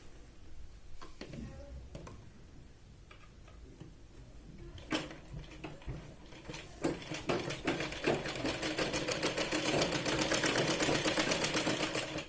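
A sewing machine stitches the shoulder seam of a Punjabi dress: a few quiet handling clicks first, then a close, steady, rapid run of stitching that grows louder and continues to the end.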